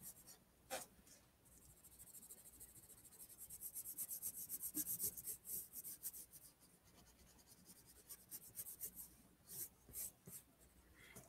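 Pencil burnishing and shading on paper, a soft scratchy rubbing that comes in uneven strokes and pulses, faint and close with no talking.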